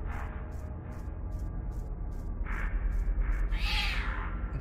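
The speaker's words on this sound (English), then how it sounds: "Cat scream." A cat screams in a horror video game, a few short shrill yowls rising out of a steady dark ambient drone, with a regular ticking pulse running underneath.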